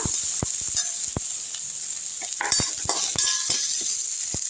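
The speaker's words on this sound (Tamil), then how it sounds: "இந்த வெங்காயமும் பூண்டு பருப்பு எடுத்து பூண்டையும் போட்டுருங்க. நல்லா வதக்கி விட்டுருங்க." Onion and garlic sautéing in a pan while being stirred, a steady background sizzle broken by sharp utensil clicks and scrapes against the metal, close and moderately loud, with no speech.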